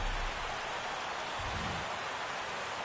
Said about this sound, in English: Rain falling here at Dodge.